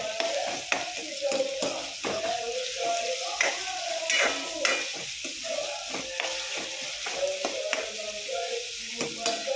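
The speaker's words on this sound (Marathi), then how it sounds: "तर बघा मी कांदा टाकला. कांदा चांगला लालसर परतू द्यायचा." Onion sautéing in a pan for pav bhaji, a continuous sizzle and fry with frequent scraping and clinking as it is stirred close up.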